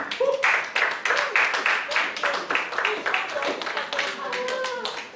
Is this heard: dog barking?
no